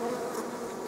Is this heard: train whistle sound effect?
no